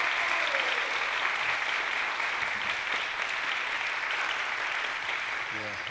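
A congregation at a youth and student joint worship service gives a big round of applause, a dense, even wash of clapping that holds steady and fairly faint the whole time.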